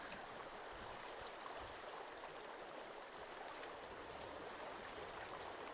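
Faint, steady rushing river water with a boat drifting downstream in the survival game Sons of the Forest, a soft continuous wash with no talk.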